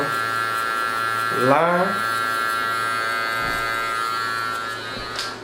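An electric hair clipper buzzes steadily while cutting hair during a fade, its hum loud and close throughout, briefly changing pitch as it moves against the head, with someone talking over it.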